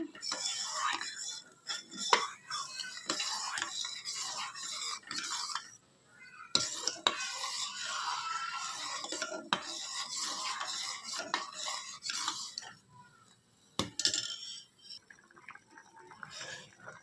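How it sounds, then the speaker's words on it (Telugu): A sugar mixture is stirred nonstop in a pan, with a spoon scraping and clinking against the metal in a steady, close rhythm, broken by brief pauses. "పంచదార వేసిన తర్వాత కంటిన్యూస్గా ఇలా కలుపుకుంటూ ఉండాలండి"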